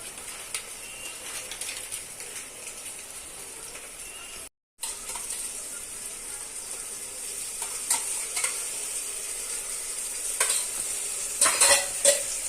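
Tomato gravy for chicken biryani frying in a pan and being stirred, a soft steady sizzle with occasional scraping strokes growing busier toward the end, and faint birdsong in the background.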